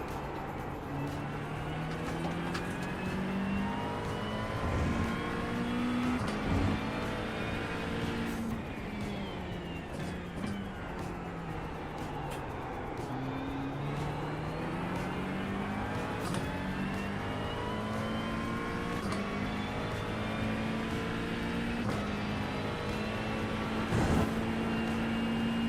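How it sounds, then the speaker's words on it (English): In the Daytona 24 racing video game, engines drone continuously as an LMP2 prototype race car passes, with rising and falling pitch sweeps from gear changes and shifting car positions, steady and moderately loud throughout. "Yeah, this LMP is passing you"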